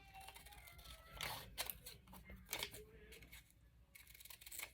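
Scissors cutting a book page, faint snips and papery rustles at close range arriving in short irregular bursts, with slight handling noise between cuts.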